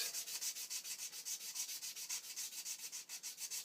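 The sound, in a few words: gently rubbing Tilley lamp part with fine dry abrasive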